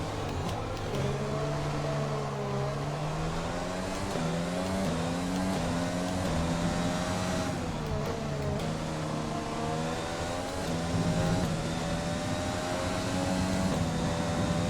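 F1 car engine running on the Zandvoort circuit in the F1 2020 video game, a continuous loud whine whose pitch climbs and falls through repeated gear shifts as the car laps, heard alone without talk.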